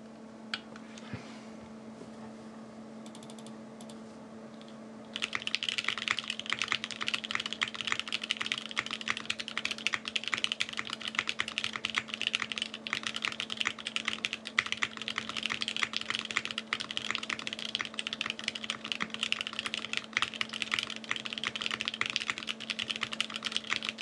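Rapid, continuous typing on a 65% mechanical keyboard with a polycarbonate plate, crisp, slightly muted clacks, close and steady, preceded by a few seconds of quiet hum.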